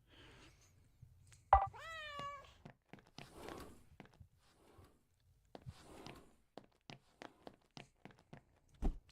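A cat meows once, clearly and up close, in the video game Returns Outlet Simulator, followed by scattered soft thuds and footstep-like taps.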